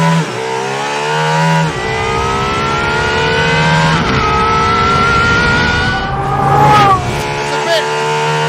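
A hypercar engine revs hard from inside the cabin, rising and falling through several loud sweeps with shifts between them, surrounded by strong vibration and road noise.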